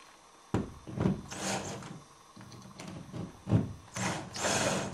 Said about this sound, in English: you screw in the screws into the anchors